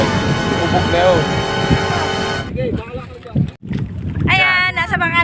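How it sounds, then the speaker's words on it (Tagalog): A man rows a wooden bangka with a bamboo paddle on open water, the boat running without its motor; splashing and wind rumble sit under loud, close voices talking throughout. "siya nagsasagwan, si kuya. Sagwa ng kawayan."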